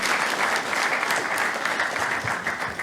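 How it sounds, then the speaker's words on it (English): An audience at an Indian awards ceremony applauds loudly and steadily, a dense wash of many clapping hands with no talk over it. "can we have a big round of applause for all of you out here?"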